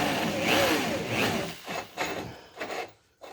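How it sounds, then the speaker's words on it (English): A drill fitted with a small carbide ball mill lightly grinds inside a Ford 302 connecting rod, giving a rasping whir that fades into short scraping strokes with brief pauses. "I'm going to use a little carbide ball mill on the end of a drill and just lightly go in"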